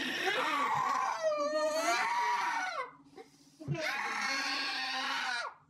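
A woman in hard, painful labor with a triple nuchal cord cries out in two long, loud, strained screams separated by a brief quiet gap.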